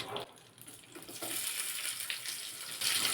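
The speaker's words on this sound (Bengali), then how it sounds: "পেঁয়াজ টমেটো কুচিটা একেবারে দিয়ে দিলাম লাল লাল করে ভেজে নেব" Chopped onion and tomato hit hot oil with dried red chili and bay leaves for chicken dal, a hiss that swells and holds as a loud, steady sizzle for a few seconds, with no talking.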